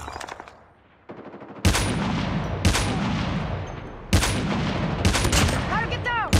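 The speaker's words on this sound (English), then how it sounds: "Be advised, hostile sentry gun spotted." A hostile sentry gun fires in Call of Duty: Mobile multiplayer in loud, sustained automatic bursts that break off briefly and then resume, with other weapon sounds and game effects around them.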